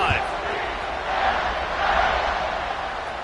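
A video-game football stadium crowd with North Texas on the field roars in a steady, loud, broad wash that swells slightly around a kickoff.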